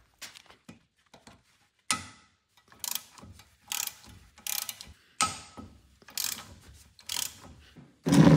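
A ratchet wrench with a short extension works loose the 17 mm rear brake caliper bolts on a 2002–2008 Honda Fit/Jazz front suspension. Bursts of fast clicking ratchet pawl repeat in short, loud runs separated by pauses, up close with no talking.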